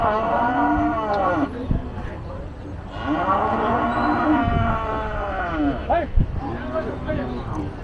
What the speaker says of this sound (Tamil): அங்க ஒரு நாட்டு மாடு இருக்கு.